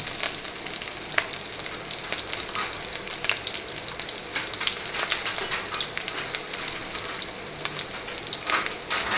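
Green chillies and ginger paste sautéing in oil in a pan, a steady close crackling sizzle with scattered sharp pops throughout, no voices.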